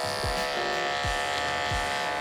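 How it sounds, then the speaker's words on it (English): Electric hair clipper running during a head shave, a steady close mechanical buzz with three brief low thumps as it passes over the scalp. "So notice when I'm using the clipper"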